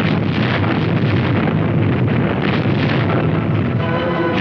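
Naval guns and WWII coastal guns exchanging fire during Operation Dragoon, heard as a loud, continuous roar of distant booming and rumbling with wind-like noise and no distinct single shots.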